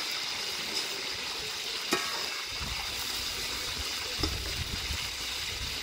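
Plov frying in a pot while being stirred, a continuous close sizzle with occasional scraping clanks of a utensil against the pot; no voices.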